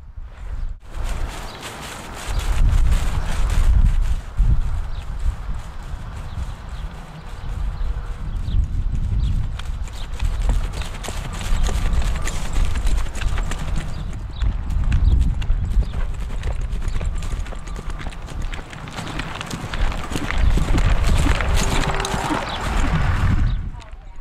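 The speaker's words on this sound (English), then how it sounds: "Pickle has a smooth gait while walking, trotting, and galloping." Hooves of a roping horse, a ranch horse used for cattle work, beat steadily and loud through walking, trotting and galloping gaits, with clip-clop footfalls, an occasional whinny and voices talking in the background.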